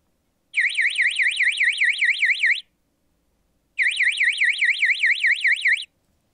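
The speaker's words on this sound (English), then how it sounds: "you can forward an active alarm to an acoustic or visual signal indication" An acoustic alarm signal driven by the alarm output of an Optris Xi 410 thermal camera sounds as a loud, shrill warbling tone in two bursts of about two seconds each, separated by a short silence.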